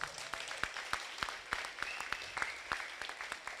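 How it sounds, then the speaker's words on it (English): A small group claps in a loose, sparse rhythm, individual hand claps standing out rather than a roaring crowd. "Let's give them a round of applause"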